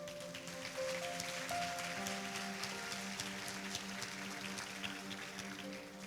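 A church congregation applauds steadily throughout a worship service, a continuous wash of clapping with sustained music or organ tones underneath.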